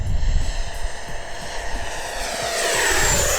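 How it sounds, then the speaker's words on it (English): An XFLY Alpha Jet model with an 80mm electric ducted fan makes a full-throttle fast pass over a grass field, its loud steady whine building and rising as it closes in almost straight toward the listener, with no talk. "let's do another pass, fast pass, full throttle, almost straight to us"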